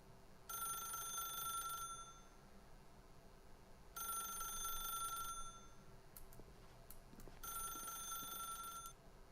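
A telephone rings in The Stanley Parable video game with three electronic ring bursts, each lasting about a second and a half and separated by pauses. The rings are clear but fairly quiet, and no one speaks.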